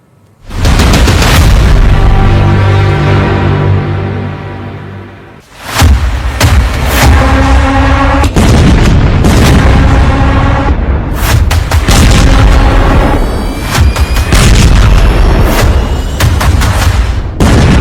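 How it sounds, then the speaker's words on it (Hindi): Heavy bombs exploding in wartime footage: a series of loud, deep booms with rumbling tails, one long blast followed by several more overlapping detonations and crackling bursts, close and dominant, with no talking. "फिर युद्ध भड़क गया है, फिर बम फटने लगे हैं"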